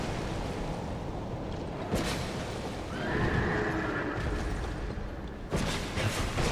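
Horse neighing in Dark Souls 2, with a loud whinny in the middle stretch set against game ambience and a few sharp thuds, no voices present.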